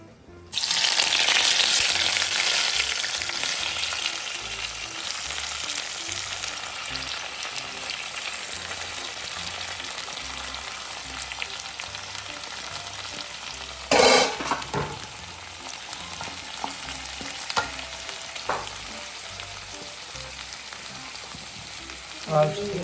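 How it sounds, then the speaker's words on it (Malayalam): Chopped onion and curry leaves land in hot oil in a home kitchen while cooking chicken curry, giving a loud burst of sizzling that settles into a steady close frying hiss, with an occasional utensil clink. "നമ്മൾ കട്ട് ചെയ്ത് വെച്ച ഉള്ളി നമുക്ക് നമ്മളെ ചൂടെണ്ണയിലേക്ക് ഇട്ട് കൊടുക്കാം"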